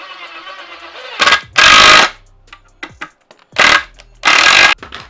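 A power drill drives screws into a wooden rod rack in four loud, close whirring bursts of about half a second each, separated by quiet pauses and small handling clicks.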